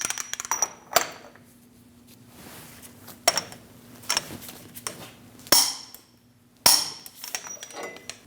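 A torque wrench and pry bar work on the axle nut at the front hub of a 2001–2006 Chevrolet Silverado 2500 HD, giving sharp metallic clicks and clanks spaced irregularly, fairly close, with quieter shuffling between.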